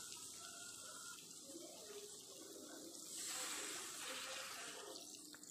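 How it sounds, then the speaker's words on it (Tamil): Water runs steadily into a pan of pumpkin poriyal after spice powders are added, a continuous splashing pour that swells louder partway through, with no talking. "பொடியெல்லாம் ஆட் பண்ணதுமே நம்ம கொஞ்சம் தண்ணியும் ஆட் பண்ணிக்கலாம் இதில்"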